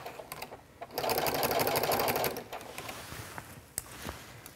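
A sewing machine with a walking foot stitches a lined wetbag in a steady, close mechanical whir lasting a couple of seconds, with quieter clicks and handling noise before and after.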